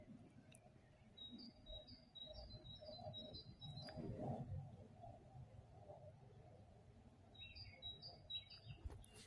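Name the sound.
birds singing in the morning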